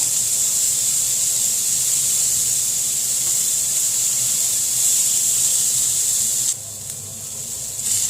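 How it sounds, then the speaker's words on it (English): Garlic sizzles in a pan while being stirred, a steady loud hiss that holds throughout and drops slightly near the end as the pan is moved, with no speech. "Okay, let's keep this stirring. We don't want the garlic to burn."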